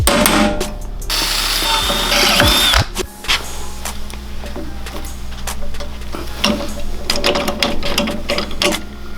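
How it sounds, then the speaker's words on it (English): A power drill whirs and grinds into a metal pipe, with a thin high whine early on, followed by scattered clicks and rattling mechanical taps. "we got to drill some holes"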